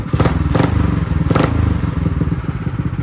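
A Tillotson engine on a drift trike runs with a rapid chugging putter, revving in several throttle blips close to the microphone, with no talking.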